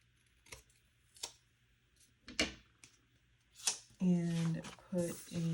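Scissors snipping the top off a planner sticker, a few short, sharp clicks and cuts close by, followed by a person talking.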